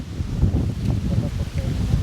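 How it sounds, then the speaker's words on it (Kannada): Strong wind at a farm buffets the microphone with a steady low rumble throughout, and a voice murmurs faintly beneath it. "ಈಗ ದಬಾಶ್ ಗಾಳಿ ಬಿಟ್ಟದ"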